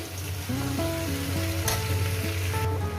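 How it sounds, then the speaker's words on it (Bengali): A hilsa fish head fries in oil in a pan over a medium flame, sizzling steadily up close while it is stirred, without talk. "এটাকে চার পাঁচ মিনিট ধরে আমি এটাকে ভেজে নেব এইভাবে গ্যাস কিন্তু মিডিয়ামে রাখবেন"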